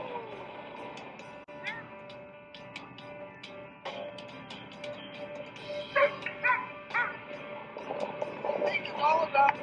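Sled dogs on a rest stop in the snow near Anchorage, Alaska, yipping, whimpering and barking in a busy chorus that grows louder and denser toward the end.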